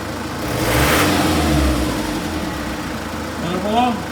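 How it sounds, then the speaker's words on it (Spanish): A turbocharged car engine in a workshop during diagnostic checks is revved, swelling from idle to a loud rise and falling back, with a second brief rev near the end as a voice speaks over it. "vamos a acelerarlo un poco a ver qué pasa si sube el del turbo"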